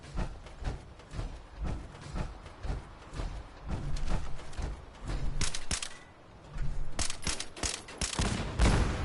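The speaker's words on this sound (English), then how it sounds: "them some good fireworks" Fireworks explode in the video game Fallout 76 in a dense, continuous barrage of sharp cracks and pops, like rapid crackling volleys, close and loud for several seconds with a brief lull midway.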